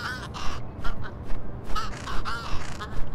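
Crow in the Little Kitty Big City video game cawing repeatedly, a run of loud, harsh, close calls in quick succession with short gaps between them.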